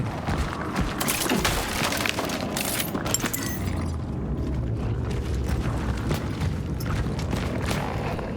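An explodable object blows up in the video game Cronos: The New Dawn, giving loud booming blasts and mechanical rumble that fill the whole stretch.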